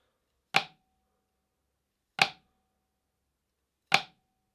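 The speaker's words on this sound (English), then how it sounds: "A flam is a very soft note played right before a normal note." Three crisp, isolated drum strokes spaced well apart in an otherwise quiet room, each with a short ringing tail, played as a flam rudiment where a soft grace note precedes the main stroke.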